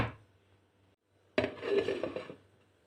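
A quiet kitchen hum, then a sudden metallic clatter as a lid is set onto a pot of bulgur, followed by a brief rattling settle.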